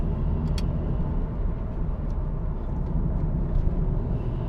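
2000 Mitsubishi Lancer Evo Tommi Makinen driving on the road, a steady low engine rumble and road noise heard from inside the car at moderate throttle, with no voices.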